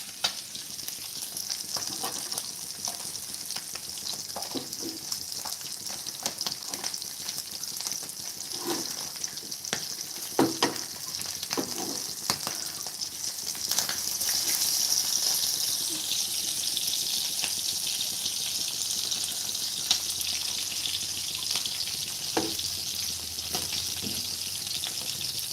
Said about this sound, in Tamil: இதுதான் தவா ஃபிஷ் ஃப்ரை, தோசைக்கல் மீன் வறுவல்.